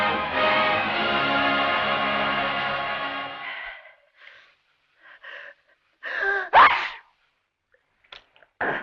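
A single sharp sneeze bursts out in a quiet, slightly echoing room in an old romance film, following a long sustained tone that fades away, with faint scattered sounds around it.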